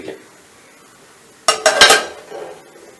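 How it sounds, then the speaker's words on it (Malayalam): A metal lid is set onto a pot of home cough remedy on a gas stove. After a quiet stretch there is one sharp clank, followed by a brief rattle of a few quick clinks. "നമുക്കിത് മൂടി വയ്ക്കാം"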